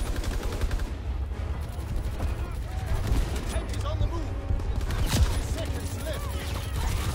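Sniper rifle shots fire in a Call of Duty: WWII match, sharp reports standing out over dense, constant battlefield noise with other gunfire and voices mixed in.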